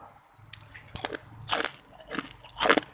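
Crispy fried pork rinds crunched between the teeth in about four loud, close bites, each a short crackly burst with quieter chewing between.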